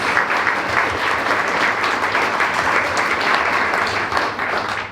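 Sustained audience applause fills a room at a business breakfast, a steady dense wash of clapping from a large crowd with no talk over it.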